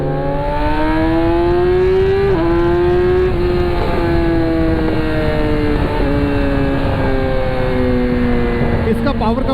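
Yamaha R6 600cc sport motorcycle engine held at high revs, a loud, close, steady whine with pitch easing slightly downward in small steps, with no talk over it.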